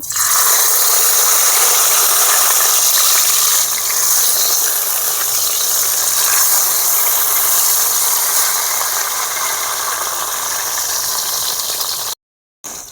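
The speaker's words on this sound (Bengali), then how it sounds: "এবারে আমি পাতুরিগুলো তেলে ভেজে নেব" Mourala fish paturi frying in hot oil in a heated kadai, giving a loud, steady, close sizzle and crackle that runs unbroken with no voices, cutting out briefly near the end.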